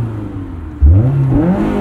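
A 2001 Honda S2000 with a UK exhaust mod revs up sharply, its engine note rising and holding loud and close for about a second.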